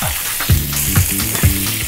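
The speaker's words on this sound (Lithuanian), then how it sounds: "Keptuvė gan įkaitusi, dedam šoninę." Bacon hits a well-heated pan and sizzles loudly, with a continuous crackle and several rhythmic scraping clatters of the pan close by.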